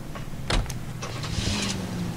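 A car door clunks and someone settles in, followed by a whir and rising engine start-up, close and moderately loud over a low steady rumble, with no speech.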